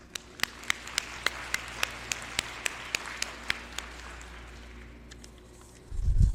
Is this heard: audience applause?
yes